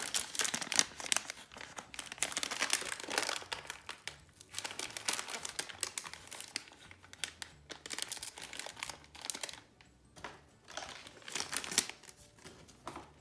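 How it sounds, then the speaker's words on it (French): Close, irregular crinkling and crackling of stiff kraft paper packaging on an advent calendar gift being handled, bursts of rustling with brief quieter pauses. "vu que c'est du papier craft, ça fait du bruit."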